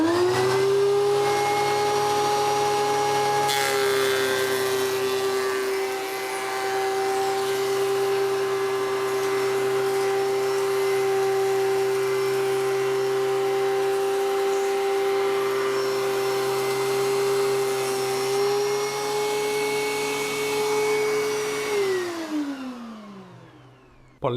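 A loud, steady DeWalt DW735 thickness planer drone with a strong hum runs continuously while planing pine wood, the pitch dipping slightly as it works, then winding down at the end.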